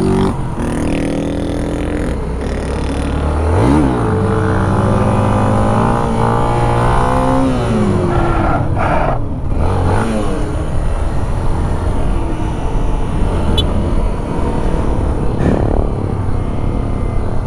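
A Honda XRE 300 motorcycle from 2020, with ABS switched off, revs hard in first gear during a wheelie, its engine note rising and falling repeatedly, loud and close, over several surges.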